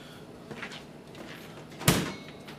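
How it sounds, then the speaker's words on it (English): The door of an EdgeStar KC2000 twin-tap kegerator shuts with one firm thud near the end, after a few soft handling noises, heard close. "as you can see, the door shuts"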